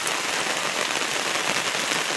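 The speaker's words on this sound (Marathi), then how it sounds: "आज आपल्या जून महिन्यापासून फर्स्ट टाइम एवढा पाऊस आलाय" Heavy monsoon rain pours down steadily on surfaces nearby, a dense, loud, unbroken hiss with no voices.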